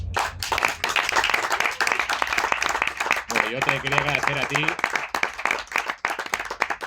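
Audience clapping for Octavio López at a presentation of a Tremors saga history book at the Sitges festival, steady dense applause running throughout, with someone speaking over it.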